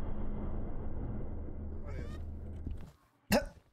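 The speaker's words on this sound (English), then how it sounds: "Was that a cat? Yeah," In the Demonologist horror video game, a cat lets out a faint meow over a low rumbling background, then a short, sharper meow stands out alone after a brief quiet.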